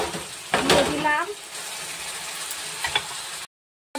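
Spice paste for duck egg kalia frying and being stirred in oil in a pan, a steady close sizzle with scraping bursts of the spoon, ending abruptly in silence.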